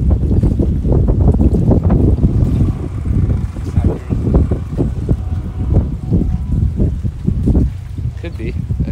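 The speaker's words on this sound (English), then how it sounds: "It's just a big propeller that's run by a V8 motor and pushes you around." An airboat on the Gulf at Cedar Key, Florida, its big propeller driven by a V8 motor, gives a low, steady engine roar heavily buffeted by gusting wind noise on the microphone.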